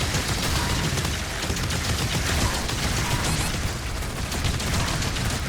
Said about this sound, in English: Damn machine gun.